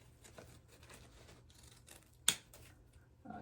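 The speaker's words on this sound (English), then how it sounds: "I'm just going to cut them a little." Scissors snipping through material for a Christmas wreath, quiet irregular cutting sounds with one sharp close snip, faint and alone without talk.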